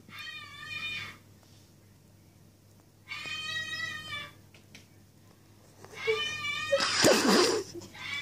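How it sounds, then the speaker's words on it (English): A house cat meows repeatedly while reacting to a bird shown on a television, three bursts of close, fairly loud meowing separated by short pauses, ending in a harsher, noisier cry. "The cat's trying to hit the bird on the TV."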